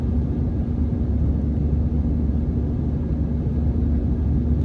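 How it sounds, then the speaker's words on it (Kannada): Inside a passenger airplane taking off on a Bengaluru to Goa flight, a loud, steady low cabin roar and rumble holds without a break, with no voices over it. "ಟೇಕ್ ಆಫ್ ಆಗೋಯ್ತು."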